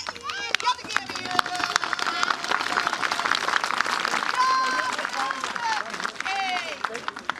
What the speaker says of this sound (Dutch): kunnen jullie allemaal klappen?